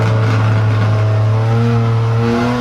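A RUF CTR Yellowbird flat-out on the Nürburgring Nordschleife toward Schwedenkreuz, its engine droning loud and steady at full throttle with a slowly climbing pitch, close and continuous without voices.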